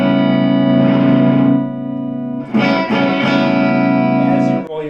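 Electric guitar with a treble bleed circuit on the volume control, giving a crisp clean tone with strong highs. A sustained chord rings and fades, then several strummed chords follow, loud and close, with a slight effects sheen.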